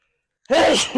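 A single sharp sneeze bursts out close by after a moment of silence, loud and sudden, with a breathy tail. No one speaks.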